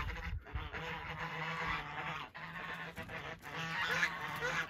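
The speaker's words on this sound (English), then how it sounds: "Geese are going crazy over there." A flock of geese honks loudly and continuously at close range on a rural property, the calls overlapping in a busy, agitated chorus throughout.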